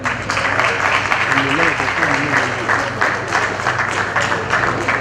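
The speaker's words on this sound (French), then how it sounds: "merci pour vos applaudissements" Audience applause closing a civil society conference on electoral process reforms, a thin, scattered round of clapping heard steadily throughout at moderate level, with voices murmuring underneath.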